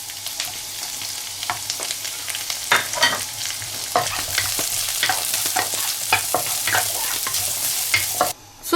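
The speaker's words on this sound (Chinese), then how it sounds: "我再给它炒点配菜，叫姜给这个葱姜蒜放进去，芹菜放进去" Onion, scallion, ginger, garlic and celery stir-fried in a wok, heard as a loud continuous sizzle with frequent quick clanking spatula scrapes close by.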